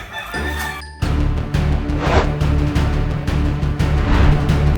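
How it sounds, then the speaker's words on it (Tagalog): Chickens cluck and squawk close by amid a busy, noisy yard, with a brief musical tone at the start before the clucking takes over. "Tingog man doon sa mga manok bay."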